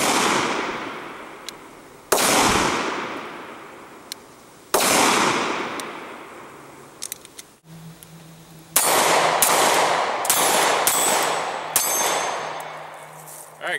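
Old SIG P6 9mm pistol firing Hornady 147gr TAP hollow-point rounds into ballistic gel: three loud, sharp reports several seconds apart, then a quicker, denser cluster of shots near the end, each ringing out briefly.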